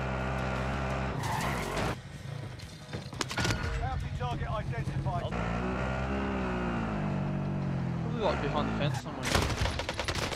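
A car is driven in the Call of Duty Warzone video game, with a steady engine drone, tire skids and bursts of gunfire throughout, loud and continuous with voices under the game sound.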